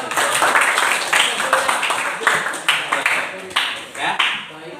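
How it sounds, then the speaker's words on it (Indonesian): A group at a teachers' coaching meeting claps in an uneven burst of applause that rises and falls, mixed with voices and background chatter. "Tepuk tangan buat Frans."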